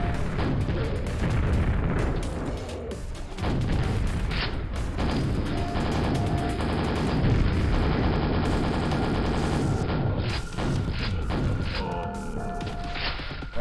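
Quake nailgun fires in long rapid streams amid heavy in-game combat noise, with bursts, impacts and occasional booms layered throughout, loud and dense with no talking.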